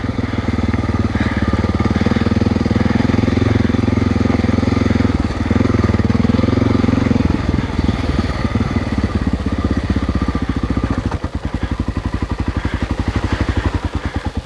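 A Honda XR600R motorcycle engine runs steadily and loudly in third gear, a continuous throbbing drone with a rattly, pulsing exhaust note that shifts slightly as the throttle changes.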